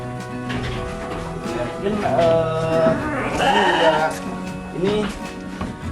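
Garut sheep bleat in a farm pen with several wavering calls at close range, while someone talks over them throughout.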